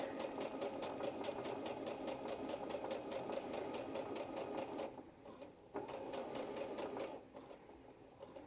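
A sewing machine stitches steadily along the curved raw edge of a patch pocket, its rapid needle rhythm running continuously, briefly pausing and slowing twice near the end as the curve is followed.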